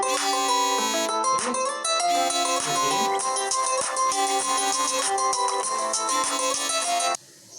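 A phone ringtone plays loud and continuous during a physics lesson, a bright looping melodic tune lasting several seconds before it cuts off abruptly.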